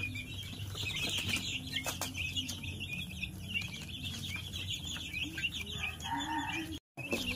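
Parent stock chickens, 21 days old, flap their wings and cluck in a poultry house during a LaSota vaccination, the rustling bursts fairly faint against steady barn noise with a brief dropout near the end.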